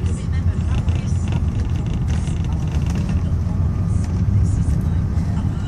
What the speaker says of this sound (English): put the car in drive